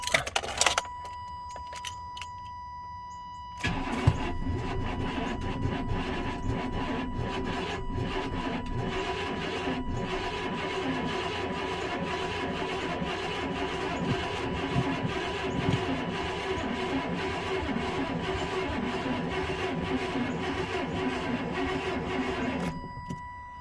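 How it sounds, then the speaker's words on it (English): Starter cranking on a Chevy Tahoe engine after a dead battery, with a steady, rough grinding churn that runs almost continuously for about twenty seconds after a brief pause near the start, close and fairly loud, with no voices. "Still having that little bit of issue where it doesn't want to crank smoothly."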